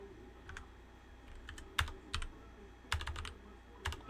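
Someone types on a computer keyboard in short scattered bursts of clicky keystrokes separated by pauses, close and fairly quiet over a faint steady background hum, with no talk.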